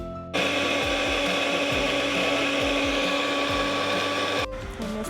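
A blender grinds ginger, garlic and onion with a little water into a paste. A loud, steady motor whine starts abruptly and runs continuously at close range, then cuts off near the end.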